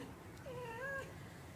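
A hungry newborn kitten gives a single thin, rising-and-falling meow, faint and close, against quiet room background.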